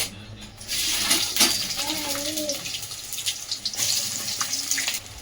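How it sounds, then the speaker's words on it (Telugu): Three large chopped onions tipped into hot oil for chicken curry burst into a loud, close hissing sizzle that stays steady and bubbling afterward. "హీట్ అయిన తర్వాత ఇప్పుడు నేను పెద్ద సైజు త్రీ ఆనియన్స్ తీసుకున్నాను కదా అది వేసుకుంటున్నాను"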